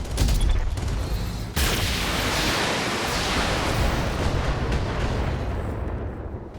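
Mech weapons fire and explosions rage in a BattleTech battle: a dense, loud, continuous roar of blasts and gunfire that swells sharply after a moment and rumbles on without letup.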